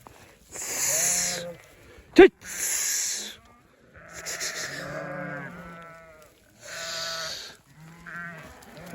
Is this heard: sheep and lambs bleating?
yes